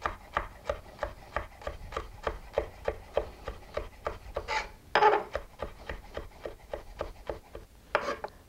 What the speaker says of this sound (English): And cut it into little brunoise